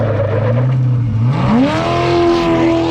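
A truck drives past while its new brake pads and rotors are bedded in: the engine note climbs steadily as it approaches and passes, loud and close, with some tire noise and no talking.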